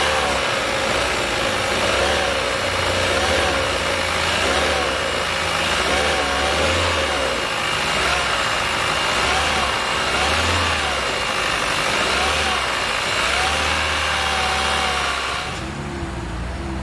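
The 2.0-liter four-cylinder engine of a 2021 Hyundai Sonata Hybrid runs steadily, a loud continuous drone with slight rises and dips, cutting off just before the end.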